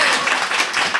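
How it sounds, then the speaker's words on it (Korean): Applause from an audience at a book concert, a dense steady patter of many hands clapping at moderate level for a brief moment, with no one speaking over it. "박수 부탁드립니다."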